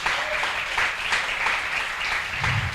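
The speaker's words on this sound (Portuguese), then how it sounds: "Você pode aplaudir o nome do Senhor Jesus nessa noite?" A church congregation claps in praise during an evening service, a dense, continuous wash of applause filling the room for a few seconds, with no talking over it.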